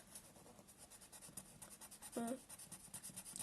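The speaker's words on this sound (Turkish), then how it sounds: "Şimdi ben boyuyorum arkadaşlar." Coloring pencil or crayon strokes scratching across paper while filling in a Turkish flag drawing, a steady close rhythmic scribbling that runs throughout, with a brief tonal squeak partway through.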